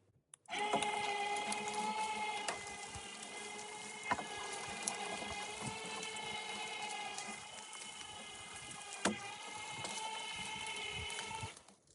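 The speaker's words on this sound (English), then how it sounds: "My winch is complaining a little bit." A small electric winch strains under load while skidding a log on a DIY skidding cone, giving a steady whining motor drone with a few sharp clicks and knocks, close but faint.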